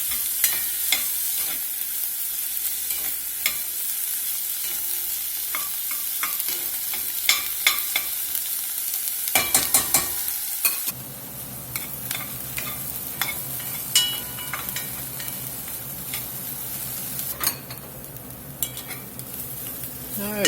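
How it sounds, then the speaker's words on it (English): Chopped vegetables with poblano pepper sweating in a hot pan, a steady close sizzle broken by repeated scraping and stirring of a utensil against the pan. "A bit of poblano. We're going to sweat these vegetables down here for a few minutes."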